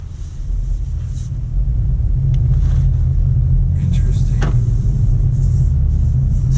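An Audi S5 Sportback engine drones steadily while driving, a deep low rumble that swells slightly as it pulls, heard from inside the car with faint cabin noises over it.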